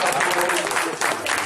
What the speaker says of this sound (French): On vous applaudit quand même.